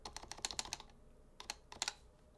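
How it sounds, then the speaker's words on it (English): Typing on an unmodded HHKB Professional Hybrid keyboard: a quick run of crisp, close keystroke clacks, a short pause, then a few more presses, with no talking. "what this keyboard sounds like without any kind of modding"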